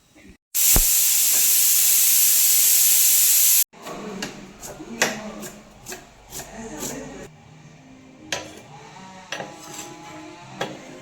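A pressure cooker of native mutton for pulao lets out a loud, steady steam whistle lasting about three seconds, then quieter kitchen clatter and knocks follow nearby.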